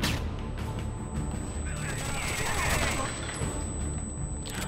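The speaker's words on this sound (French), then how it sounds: "les ennemis savent très bien utiliser leur fusil à pompe" Shotgun fire in the video game Rainbow Six Vegas comes as a dense, continuous barrage of loud blasts and crashes, several booming shots overlapping with no pauses between them.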